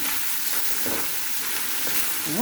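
Pancit ingredients with chicken liver, carrots and pepper cook in a pan, giving a continuous close sizzle with a few soft stirring scrapes and a brief squeak at the end, no talking.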